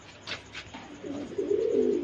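Pigeons coo close by in soft, low, rolling calls that build into a steady burbling toward the end, with a couple of brief higher notes early on.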